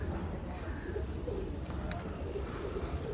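Pigeons coo softly in the distance over steady outdoor noise during a pigeon-flying session in Lahore, with no clear talk over them.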